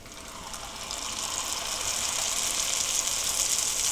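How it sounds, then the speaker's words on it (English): Squares of stretched bread dough fry in hot oil in a frying pan over medium to medium-high heat, giving a steady, close hiss that grows a little louder and holds without pause. "and then we're gonna fry them"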